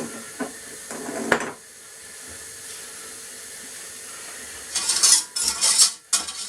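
Flour being stirred and cooked out in a pan in a home kitchen, with scraping and clinking of utensil against pan, plus bursts of sizzle and hiss, louder toward the end.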